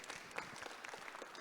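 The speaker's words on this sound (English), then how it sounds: "Please give a round of applause to our great guests." A panel audience applauds the guests, producing a faint, distant wash of scattered clapping with a few sharper individual claps standing out.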